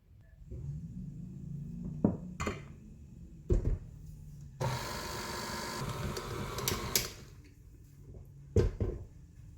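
A mixer blends dry ingredients into banana bread batter in a bowl, with intermittent motor whirring, bursts of higher-speed churning, and clinks against the bowl.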